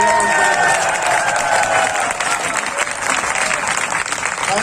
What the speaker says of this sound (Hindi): साथियों, एक बार जोरदार ताली हो जाए।